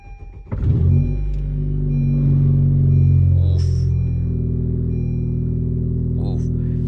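A 2021 Honda Civic Type R engine cranks and fires up after a rear motor mount install, settling into a steady, loud idle with a brief rev flare and low rumble that continues throughout.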